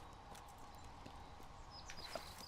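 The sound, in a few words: horse hooves clip-clop in video game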